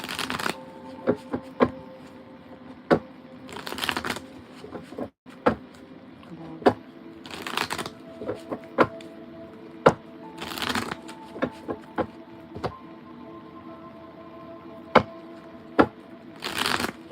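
A deck of tarot cards being shuffled close by, with repeated sharp riffles and soft slides in irregular bursts and no talk.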